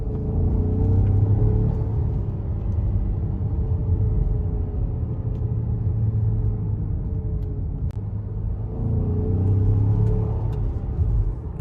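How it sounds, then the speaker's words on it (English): An Audi S6 accelerates hard in second gear at about 40 mph, heard from inside as a loud steady engine rumble and drone that swells slightly near the end, with no talk. "Second gear, about 40. I just love how this thing picks the front end up."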